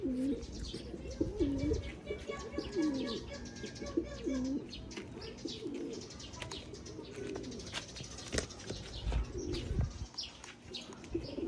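Pigeons coo repeatedly at close range during free flight recall training, soft rolling calls recurring through the recording with light chirps and flutters, while a person talks intermittently.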